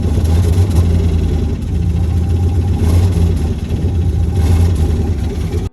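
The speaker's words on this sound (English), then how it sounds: "it hesitates like crazy when you give it any throttle" A V8 Jeep with a fault that makes it hesitate under throttle runs with a loud, rough, low rumbling idle close by, its note wavering unevenly with no talk.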